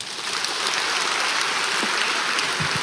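A church congregation claps together in a dense, loud, even wash of applause that runs unbroken throughout.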